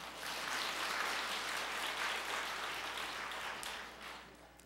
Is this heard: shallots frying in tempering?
no